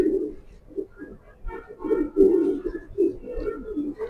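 Black racer pigeons coo in a series of soft, low, throaty bursts at close range, with brief pauses between calls.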